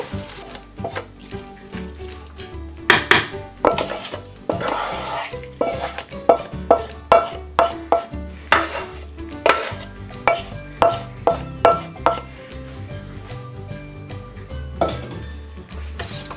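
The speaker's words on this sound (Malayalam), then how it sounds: "നന്നായിട്ടൊന്ന് മിക്സ് ചെയ്ത് കൊടുക്കാം." Lemon rice being mixed in a metal pan, with a spoon or spatula striking and scraping the pan in repeated sharp clanks and knocks, loud and close, coming in irregular bursts then a steady rhythm, no talking.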